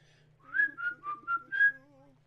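A person whistles a short tune of five clear, sustained notes, close and moderately quiet, over a faint steady low hum, with no talking.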